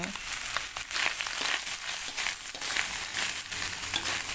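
Steady, close sizzling and crackling from a hot pan as food is stirred, with a dense hiss throughout and occasional scraping.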